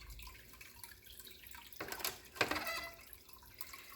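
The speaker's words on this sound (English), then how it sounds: "I grab the lid and let some of the water drip in there" Water drips from a lid into a fish container. Quiet dribbles and a couple of brief splashy bursts sound close up against a hushed background, with no talking.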